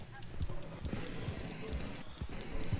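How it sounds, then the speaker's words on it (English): Rhythmic hoofbeats of a horse galloping in a video game, a steady run of soft thuds repeating under a busy game soundscape. "It's hard, my horse running out of stamina."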